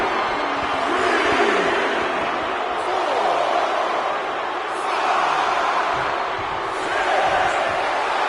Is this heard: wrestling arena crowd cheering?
yes